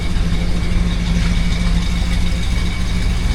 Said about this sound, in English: No more blowy exhaust.